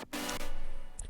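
A second distorted synth chord layer in FL Studio holds a single buzzy, sustained chord, faint and alone, with a brief bright blip near the end.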